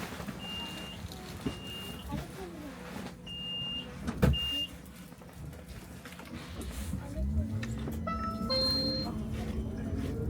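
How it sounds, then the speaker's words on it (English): Interior of an orange express bus moving through Helsinki, with a steady engine rumble, door warning beeps, a sharp clunk and the engine revving up as the bus pulls away. "I am riding an orange bus, which is an express bus."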